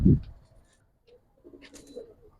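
A Giribaz pigeon sitting on a person's hand gives a soft, low coo after a short thump at the start, the call quiet and close in an otherwise hushed moment.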